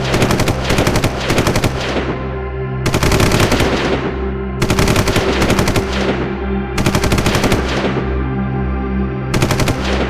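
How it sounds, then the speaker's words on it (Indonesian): Loud bursts of rapid automatic rifle gunfire with mortar blasts repeat in long volleys, each fading into a short echoing tail before the next burst starts. "Dentuman mortir dan tembakan senapan tak hentinya."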